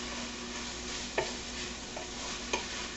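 Enchilada beef mixture stirred in a pan over a steady low hiss, with two or three soft scraping strokes of a utensil.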